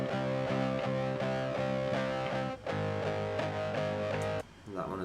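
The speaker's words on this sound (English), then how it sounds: "It's a bit more dirty, that distortion is a little bit more kind of crunchy." Crunchy distorted electric guitar through a distortion pedal plays a repeated chugging riff of chords, fairly loud and up close, with a brief pause near the end.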